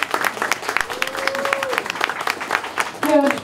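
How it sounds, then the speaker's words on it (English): Crowd applause at a fursuit dance contest awards announcement, steady clapping from the audience under a host's voice, with a brief tonal sound mid-way and louder cheering at the close. "Applaudissements"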